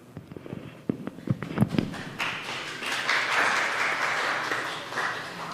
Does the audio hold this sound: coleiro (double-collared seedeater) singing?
no